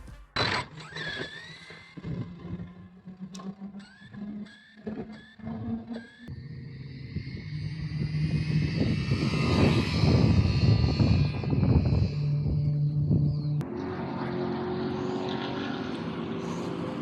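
An Arrma 3S BLX Vendetta RC car fitted with a 26-tooth pinion on a speed run: a loud, high electric motor whine that climbs and holds steady at full throttle, with no talking.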